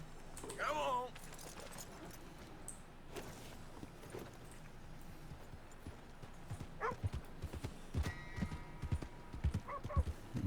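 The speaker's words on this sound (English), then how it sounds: "Eu vou roubar esse cavalo aqui." Horse hooves clip-clop in Red Dead Redemption 2, with a short whinny near the start and irregular hoofbeats growing louder toward the end, while a voice talks over the game sound.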